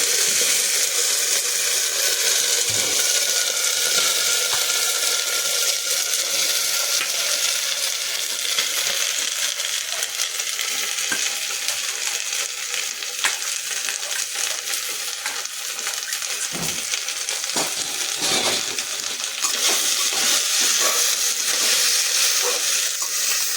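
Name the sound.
potatoes frying in a pan for ghugni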